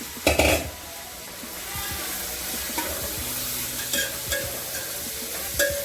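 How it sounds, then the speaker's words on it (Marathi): Chopped onion fries in a little oil in a pan, giving a steady soft sizzle that is punctuated by occasional spoon scrapes and light clinks as it is stirred. The sound is close and unhurried, with no speech. "आता हा आपण कांदा लाल होईपर्यंत भाजणार आहे. तर त्यासाठी आपण थोडंसं तेल वापरूया."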